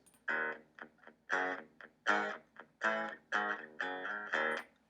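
A dry, unprocessed electric guitar signal played back in GarageBand: a series of clear plucked notes and chords, each ringing briefly then stopping, close and clean with no talk over them.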